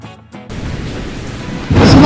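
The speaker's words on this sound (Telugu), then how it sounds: "సుమారు 2 రోజులుగా ఉరుము మెరుపులతో భారీ వర్షం కురిసింది" Thunder rumbles with heavy rain in a village, a quieter opening giving way near half a second to a dense, steady roar that swells louder again at the end.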